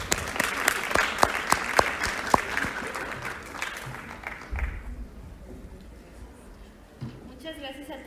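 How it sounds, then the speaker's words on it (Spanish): An audience at a conference forum on women's mental health and gender equity applauds a female doctor, with sharp individual claps up front that fade into quiet before a voice begins speaking. "Les pido un aplauso para la doctora."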